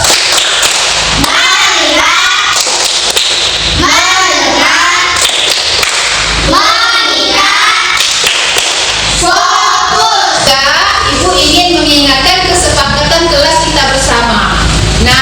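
Classroom of children performing a rhythmic clapping routine, sharp claps in patterned bursts alongside chanted voices, loud and close, with a teacher's voice leading.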